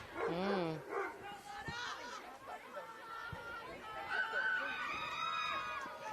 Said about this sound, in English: Got some dogs barking.